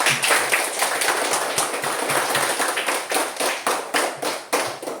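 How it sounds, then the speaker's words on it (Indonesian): A classroom group claps for student groups in a dense, lively burst of applause that holds strong throughout, with rhythmic accents near the end. "Mari kita beri tepuk tangan untuk kelompok 1, 2, 3, dan 4 yang meriah."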